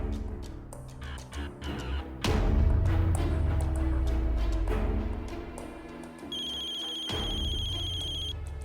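A telephone ringtone rings loudly and steadily, a repeating electronic tone that holds for several seconds with crowing and other household sounds around it, no talk.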